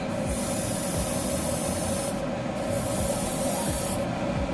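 Spray painting an MG 1100 GOGG model kit with a spray can or airbrush, a continuous close hiss with two brief pauses in the stream.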